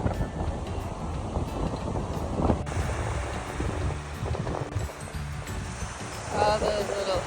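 Strong wind buffets the microphone while a boat is paddled against it on open water near the shore. A loud, rough, continuous roar gusts and swells, with a voice talking underneath.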